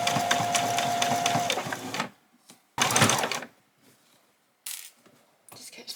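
A sewing machine stitching an apron runs in a loud close burst of fast even whirring, then stops. Short bursts of stitching follow among quiet gaps, one of them a strong second run.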